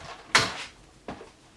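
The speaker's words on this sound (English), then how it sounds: "close the barn doors." Metal barn doors on a studio light swung shut, two quick clanking knocks: the first sharp and loud, the second softer about three-quarters of a second later, with no voices over them.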